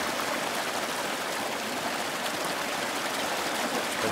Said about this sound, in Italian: E sentite il rumore dell'acqua.